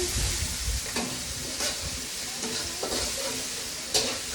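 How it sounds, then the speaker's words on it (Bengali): Spices and garlic paste fry in a pan with a steady broadband sizzle, broken by the scrape and clatter of stirring at close range; no voices. "ভালো করে ভাজতে নিয়ে মশলাগুলো"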